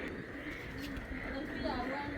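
Soft, low cooing from a pair of gola pigeons, a Pakistani pigeon breed, runs steadily through the short stretch with a murmur of voices in the background.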